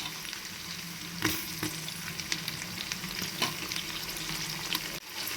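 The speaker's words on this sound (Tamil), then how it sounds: "எண்ணெயில் நல்லா கொஞ்சம் நேரம் வதங்கட்டும்." Onions sauté in oil in a pan for paruppu sadam, a soft, even crackling sizzle at moderate distance, with a few light stirring knocks scattered through and a brief clatter just before the end.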